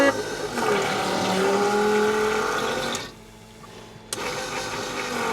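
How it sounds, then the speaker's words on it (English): Lavatory toilet flush aboard a Cessna CJ3+ jet, a loud, close mechanical whoosh and whir lasting a few seconds that cuts off abruptly, then restarts after a brief quiet gap. "We're gonna push to flush."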